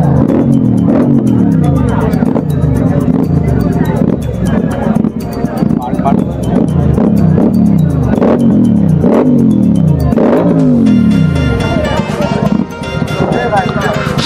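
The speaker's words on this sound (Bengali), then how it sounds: "আর কতক্ষণ এই একই বাইকের আওয়াজ শুনবো" A motorbike engine revs hard again and again in loud repeated bursts at a roadside gathering of super bike fans at a dhaba on 15 August, with crowd chatter running underneath throughout.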